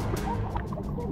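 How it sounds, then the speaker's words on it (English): Birds at a backyard pond call continuously in a dense, close chorus of gobbling, fowl-like cries layered over a busy outdoor background, with no talk. "There's birds."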